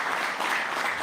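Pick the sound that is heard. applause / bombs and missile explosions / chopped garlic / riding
applause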